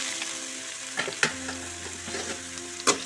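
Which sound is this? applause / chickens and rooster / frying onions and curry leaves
frying onions and curry leaves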